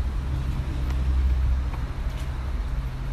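A Proton X70 car pulls away on a street in Bangsar, Kuala Lumpur, with a steady, close engine rumble that holds for about three seconds and a faint whoosh of surrounding traffic.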